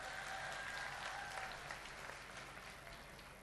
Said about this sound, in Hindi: तो आपके तालियों का समर्थन चाहिए सर।